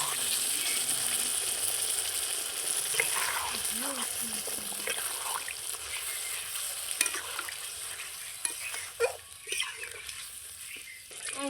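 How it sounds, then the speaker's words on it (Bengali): Water is poured into a pan of browned, spiced chicken curry (chicken kosha), setting off a loud, steady hiss and bubbling with stirring scrapes throughout, and a voice talks over it. "একটু পরিমাণ জল দিয়ে দেবো আমি।"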